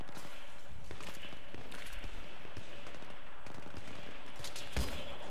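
Gunfire in Battlefield 3 video game, bursts of rapid shots over a constant noisy game background, moderately loud.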